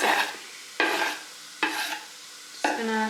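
Onions sautéing in a pan for a Greek vegan stuffed-vegetable dish, a spatula scraping and stirring in four distinct strokes over a faint steady sizzle, close and fairly loud.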